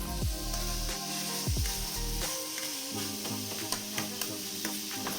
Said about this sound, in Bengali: নাড়াচাড়া করে ভাজা ভাজা করে নামিয়ে নিতে হবে শাক